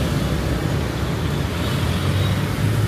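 Rush-hour street traffic at nightfall, with motorbikes and cars streaming past. It makes a dense, continuous roar of engines and road noise, close and steady, with no clear voices.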